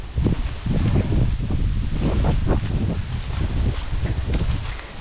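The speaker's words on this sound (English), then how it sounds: "the wind's picking back up again" Wind gusting through woodland trees with steady rustling of leaves and broadband blustery noise, loud and continuous, with buffeting against the microphone during an autumn hike.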